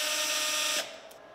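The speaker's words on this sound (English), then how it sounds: "you can put in a driver tip in your screw gun. It quickly removes these 3 millimeter screws." A screw gun fitted with a driver tip spins out small 3 mm screws on a robot chassis, a short high whirring buzz that cuts off abruptly after under a second, close and alone.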